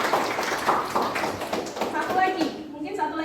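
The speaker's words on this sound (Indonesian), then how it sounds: "Tepuk tangan untuk Mbak Maya" Classroom of teachers applauding a participant, a scattered round of claps mixed with voices and chatter, moderately close, fading out near the end.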